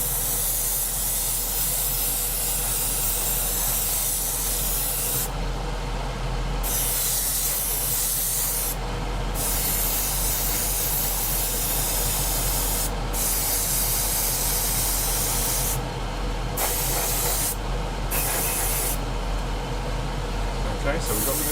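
An aerosol can sprays in repeated hissing bursts with short pauses between them, close by, painting a 1/48 scale F-4B Phantom model, while a person talks over it.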